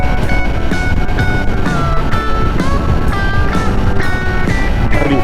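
Ducati 600SS motorcycle engine accelerating toward 100, loud and close, with its whine climbing in repeated steps through the gears over several seconds.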